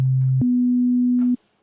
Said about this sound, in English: And then maybe you might have a basic sine wave like I have set up here.